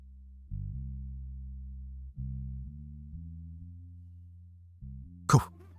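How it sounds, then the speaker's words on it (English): A single short cough bursts out near the end, following steady low electronic-sounding hums that start and stop. "Cough."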